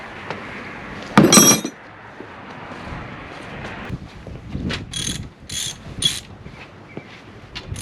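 Tool work on the bolts of a 1966 Ford Mustang 289 short block gives a loud clattering metallic burst early, then scattered clicks and a few brighter ratchet-like bursts later, with no talk.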